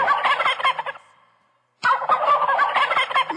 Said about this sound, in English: let me give you the gobble